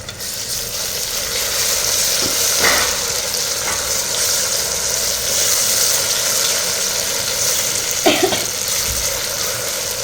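Ginger garlic paste and mutton sizzle steadily in a hot pan, a continuous frying hiss with a few soft clinks of a spoon against the pan.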